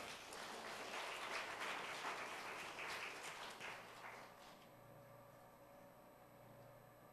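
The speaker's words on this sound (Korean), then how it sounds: "박수로 환영하겠습니다." Congregation applause welcoming a speaker in church, a soft, dense patter of many hands that holds steady for several seconds and then fades away, leaving a quiet hum of the room.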